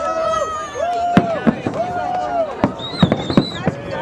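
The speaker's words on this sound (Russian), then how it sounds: "А вот, товарищи, салют начался." Fireworks launched from ships on the Volga embankment during a holiday show, with sharp bangs and crackles bursting repeatedly over a whistling tone and crowd chatter, people talking nearby.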